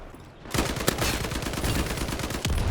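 Dense gunfire from a World War II shooter game, a sustained rattle of rapid automatic shots with a few sharper cracks standing out, close and loud throughout after a brief quiet start.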